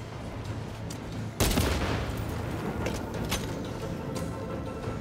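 Gunfire in Warhammer 40K Space Marine 2 strikes a blinking object, opening with a sudden loud blast followed by scattered shots and crackling impacts over a low game-ambience hum, with no voices.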